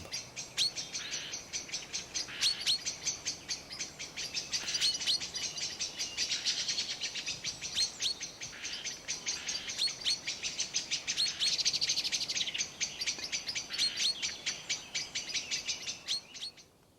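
Small birds mob a tawny owl at dusk, a dense, continuous chorus of high chirps, tweets and scolding calls from several birds, fairly close and steady throughout with no talking.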